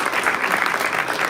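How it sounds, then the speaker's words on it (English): A crowd claps steadily, a dense wash of applause with no pauses. "give another round of applause for your support"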